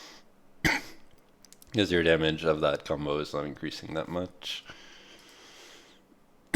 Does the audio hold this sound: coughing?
yes